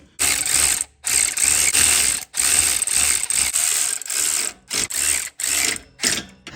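A ratchet tightens drive shaft bolts under a Ford Escape 1.5L, rapid clicking pawl strokes in repeated bursts separated by brief pauses, loud and close with no speech.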